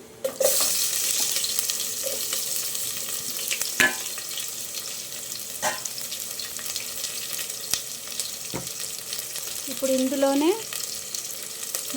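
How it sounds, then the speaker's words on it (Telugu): Sliced onions fry in hot oil with cinnamon, kalonji and shahjeera for mutton pulao, giving a steady close sizzle and hiss with a few soft clinks of a utensil against the pot. "ఉల్లిపాయలు ఇందులో వేసేస్తున్నాను"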